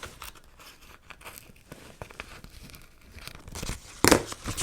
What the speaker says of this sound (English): All right, we're gonna cut this out.